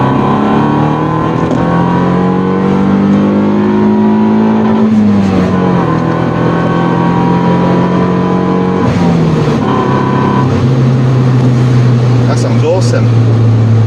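Toyota Yaris T Sport with an aggressive exhaust revving loudly and close, pitch climbing and dropping through several gear changes with brief dips, a rally-car-like rasp filling the whole stretch.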